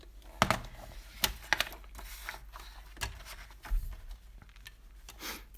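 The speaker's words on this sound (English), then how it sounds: "Cut these into rectangles." Scissors cutting white cardstock into rectangles at a craft table, a few sharp snips and crisp paper crunches at irregular intervals, close and fairly quiet with soft handling noise between cuts.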